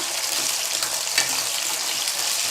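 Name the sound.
ivy gourd sautéing in oil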